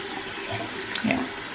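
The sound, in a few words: tap water running while rinsing a hand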